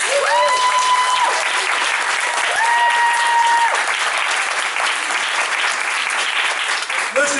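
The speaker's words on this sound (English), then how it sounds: "let's give him a round of applause" Luncheon audience giving Ellie Savick steady, loud sustained applause, with a few rising whistles or cheers cutting through the clapping.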